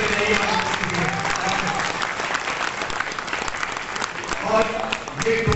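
An audience at a stage drama breaks into loud, sustained applause, dense clapping filling the hall throughout, with crowd voices rising briefly near the end.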